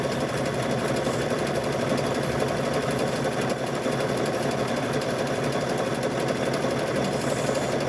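A sewing machine runs steadily, stitching thick rope together in a continuous, even, close mechanical whir with no pauses.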